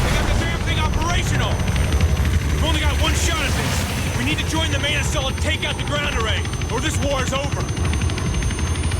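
A helicopter in the video game Call of Duty: Ghosts, a loud continuous rotor roar amid battle noise and gunfire, with voices shouting over it throughout.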